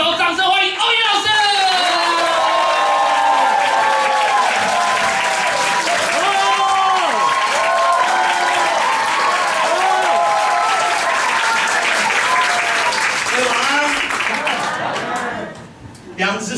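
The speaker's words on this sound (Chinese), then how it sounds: "让我们用热情的掌声，用最热情的掌声来欢迎我们今天的大轴，掌声欢迎欧野老师。" A comedy show crowd applauds and whoops loudly for a headlining stand-up comic, dense sustained clapping with cheers and shouts on top, tapering off near the end.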